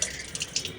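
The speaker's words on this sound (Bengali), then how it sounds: "এটা পরিষ্কার জল দিয়ে ধুয়ে নেব, পরিষ্কার জল দিয়ে ধুয়ে" Clean water is poured to rinse a vessel during a Shiva puja, a brief close splash and trickle.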